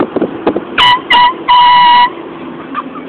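Air horn blasting three times, two short bursts then a longer held blast, loud and close, with brief scuffs and voices around it.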